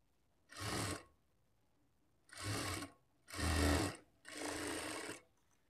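Sewing machine stitching a lined blouse with a half-inch seam margin, four separate runs of steady motor whir and needle chatter, each under a second long and separated by short pauses, close and fairly loud.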